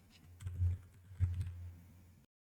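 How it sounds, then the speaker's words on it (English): Someone types code on a computer keyboard in a few quick bursts of soft, muffled key clicks, close and fairly quiet, with no talking. "I'm really bad at typing today"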